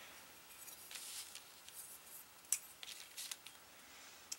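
Scissors snip through paper for an envelope in a quiet room, with a series of faint, short crisp cuts and soft rustles spread irregularly over a few seconds.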